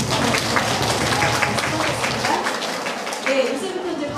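A church class for Bible memorization applauds its arrivals with a burst of steady crowd clapping that fills the room, with a hint of voices mixed in.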